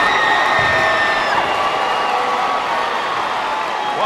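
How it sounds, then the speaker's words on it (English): Basketball crowd in a gym roaring and cheering after a slam dunk, a dense sustained wall of voices with whoops and shouts throughout. "That brought the crowd to their feet."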